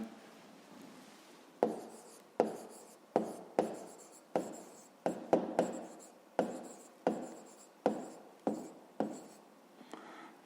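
Pen or chalk writing out the answer to a grade-5 math word problem, in repeated short scratchy strokes with brief pauses between them, close and fairly clear, with no talking.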